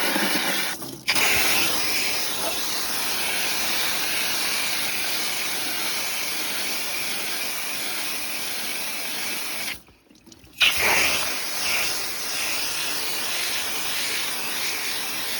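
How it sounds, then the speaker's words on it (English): Water spraying hard from a hose onto the coil of an outdoor HVAC unit, a loud steady hiss that cuts out briefly twice before resuming. "spray the outside really quick."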